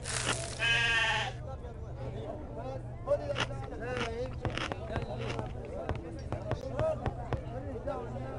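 A goat bleats a few times in short, wavering calls over a low hum, with people talking and scattered knocks nearby, in the video game Agatha Christie: Murder on the Orient Express.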